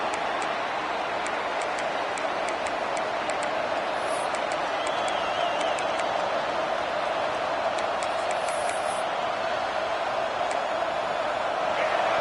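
A stadium crowd in a college football video game keeps up a constant, even roar, steady and unbroken from start to finish.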